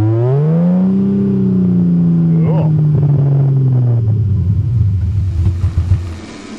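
An old car engine running rough on stale gas rumbles loudly up close, its pitch sagging and surging unevenly before it stumbles and sputters near the end, with a voice briefly heard.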